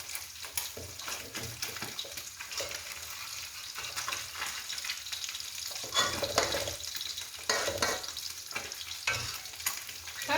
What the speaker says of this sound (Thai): อันนี้วิธีการทอดเนาะ ก็ใช้ไฟกลางๆ